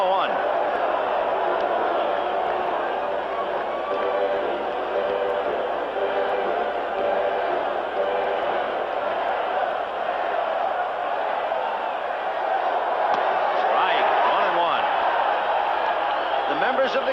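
A stadium crowd at an April 1984 Detroit Tigers versus Chicago White Sox baseball game roars steadily throughout, a dense, sustained wash of cheering and voices with a few whoops rising out of it.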